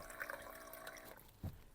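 Fresh water pours faintly from a 5-gallon jug at a camp at night, a soft, steady liquid trickle with a brief low gurgle near the end.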